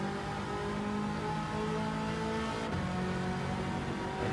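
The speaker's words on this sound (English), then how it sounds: "Let's get on the accelerator as soon as we can." Race car in Gran Turismo 7 on the Deep Forest circuit accelerating hard, a steady loud engine drone rising in pitch as it gains speed, with no talking over it.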